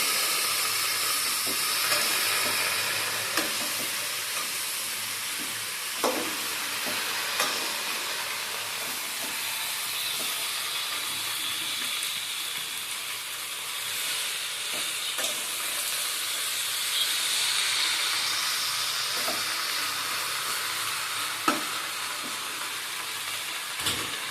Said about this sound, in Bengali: বন্ধুরা আমি কিন্তু কড়াতে দিয়ে দিয়েছি আমি এবারে ভালো করে নেড়ে চেড়ে নেবো